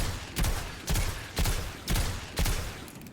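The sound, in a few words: gun hip fire in a video game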